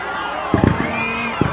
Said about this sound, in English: Wonderful display of fireworks here.